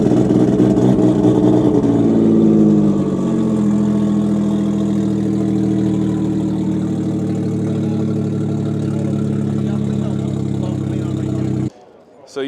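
A 2,000-horsepower GTR fitted with an LS engine, shown at SEMA 2024, rumbling loudly at close range after a revving start and then idling steadily with a heavy, even drone before cutting off abruptly near the end.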